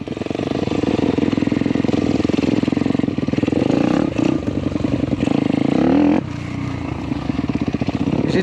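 A YCF 160 Daytona pit bike engine idles steadily and loudly up close during break-in, a continuous low rumble with brief clattering shifts in tone, no talking.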